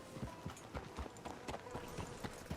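Horse hooves clip-clopping on ground in Red Dead Redemption 2, a steady walking rhythm of soft thuds, faint and fairly close, with low ambient noise.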